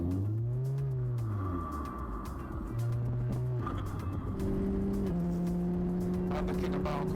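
Race car engines rev and whine in a racing video game, with sliding engine pitches rising and falling, steady and loud throughout, alongside background game noise.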